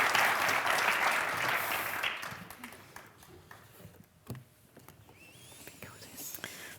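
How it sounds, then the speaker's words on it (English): An audience in Umeå gives warm applause for speaker Michela Magas. The dense clapping is loud at first and fades away after a couple of seconds, leaving scattered claps and faint murmuring. "Let's give a warm round of applause."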